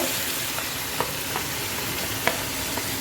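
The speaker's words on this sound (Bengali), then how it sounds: "এখন এগুলোকে আমি ভালো করে কষাই নেব" Spices and turmeric sautéing in a pan, giving a steady low sizzle broken by a few soft stirring scrapes and clicks, with no one talking.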